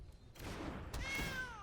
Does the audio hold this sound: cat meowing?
yes